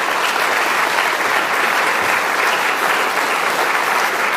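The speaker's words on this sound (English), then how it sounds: "Give him a round of applause." Audience applause fills a school Teacher of the Year ceremony, a dense, steady wash of clapping that holds at an even level throughout with no talk over it.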